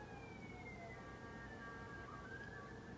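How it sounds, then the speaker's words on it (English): A distant ambulance siren wails in a steady rising and falling tone under a constant low rumble of background noise. "I already hear the fire ambulance is coming."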